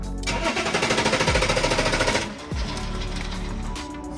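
The starter motor of an old German car cranks the engine in a fast, steady rhythmic chug for about two seconds without it catching, then cuts out, leaving a loud continuous whir close by.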